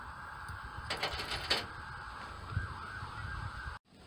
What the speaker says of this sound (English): it was fire trucks, a whole bunch of them